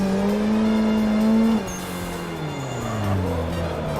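Engine and tyres of a car drifting the Irohazaka course in a racing video game, a steady high engine tone holding then dropping sharply as the revs fall, with a continuous tyre hiss under it.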